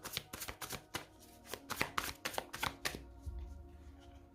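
A deck of tarot cards being cut and shuffled for a reading, with a close, quiet run of crisp riffling taps and flicks in quick irregular rhythm, tapering off into near silence.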